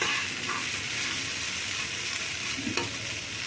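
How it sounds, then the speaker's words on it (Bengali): Pumpkin pieces fry in a pan with a continuous hissing sizzle, steady and close, with a faint clink near the end. "দেখুন কুমড়োটা একটু ভাজা ভাজা হয়ে গেছে।"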